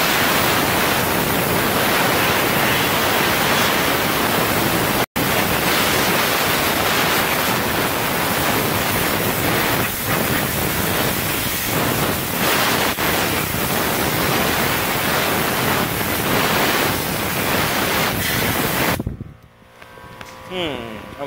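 Water hose spraying steadily into the engine bay of a Nissan 350Z, a loud continuous broadband hiss with one brief cut near five seconds, stopping abruptly near the end.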